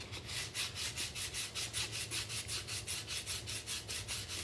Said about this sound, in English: Okay, now I'll take this fingernail sanding block.